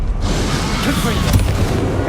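A Confringo spell blast from Hogwarts Legacy erupts as a loud, dense fiery burst, sustained rumbling explosive energy with a sharper crackle partway through, filling the moment without any talk.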